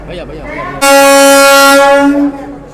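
After a brief voice, a loud Vande Bharat sleeper train horn blares close by in one sustained blast of about a second and a half as the train arrives at the new platform of NGP station in India.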